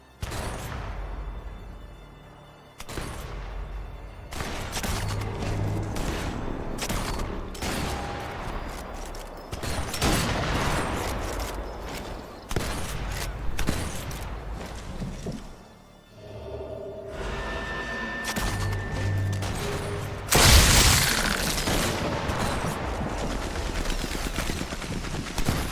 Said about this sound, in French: Il y en a un qui tire sur le côté